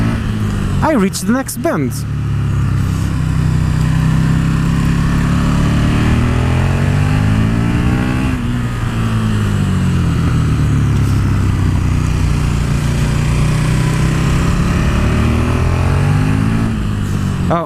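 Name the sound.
KTM 1290 Super Duke R motorcycle engine under throttle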